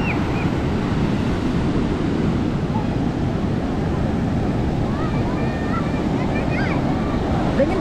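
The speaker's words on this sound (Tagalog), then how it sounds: "Ganda ng alon, oh. Sunod-sunod." Ocean surf rolling and breaking continuously on the beach at Baler, Aurora, a steady broad wash of waves with wind buffeting the microphone and faint distant voices.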